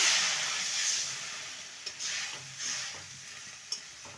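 Spice paste for drumstick curry frying in a pan with tomato, a steady hiss and sizzle with occasional scrapes of stirring, close up and without voices.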